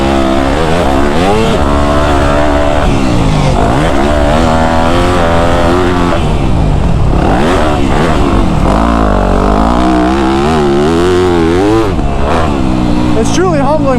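A dirt bike's engine drones and revs continuously and loudly, its pitch rising and falling as it cruises past on a trail, with a rider's voice talking over it.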